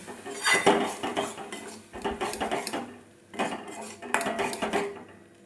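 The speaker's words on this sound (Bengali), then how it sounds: "দিয়ে ভালো করে মশলার সাথে মিশিয়ে নেব।" A metal spoon scrapes and clatters against a pan while mustard-poppy seed paste with green chili is mixed for a pabda fish dish, coming in three or four short rhythmic bursts separated by brief pauses, close and fairly loud.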